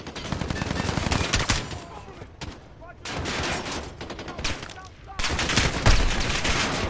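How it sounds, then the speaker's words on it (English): Bursts of rapid machine gun fire in a Call of Duty Modern Warfare battle, loud sustained volleys broken by short pauses, with shouting voices mixed in. "Get suppressive fire on that MG!"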